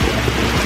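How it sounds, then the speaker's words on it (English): Heavy rain pouring down as a dense, steady hiss that fills the whole brief moment, with no voices over it. "It is raining so heavily now."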